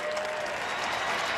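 Stadium crowd at a Gallagher Premiership rugby match applauding and cheering after a last-minute try, a continuous loud wash of clapping and crowd roar sustained across the whole moment.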